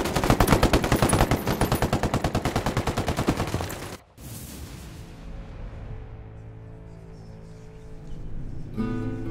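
Automatic gunfire rattles in a rapid, loud burst for about four seconds during a firefight with hostiles in Ghost Recon Wildlands. It then cuts out sharply, leaving a lower droning background.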